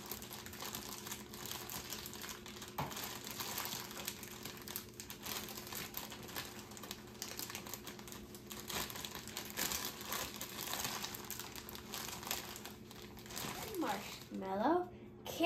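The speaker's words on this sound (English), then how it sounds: "Now, we're going to get our marshmallows and open them." A plastic bag of marshmallows crinkles and rustles steadily as it is opened, the crackling close and continuous over a low background, with a brief voice near the end.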